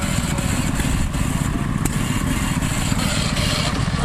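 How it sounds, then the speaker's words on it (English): An antique hit-miss engine runs at an engine show in Canfield, Ohio, giving a loud, close, steady mechanical chugging throughout with no voices. "It's what's called a hit-miss engine."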